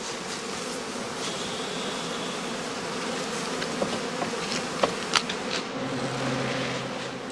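Honey bees buzz in a dense, steady drone around a skep basket in an apiary during heather bloom, with occasional closer individual buzzes passing by.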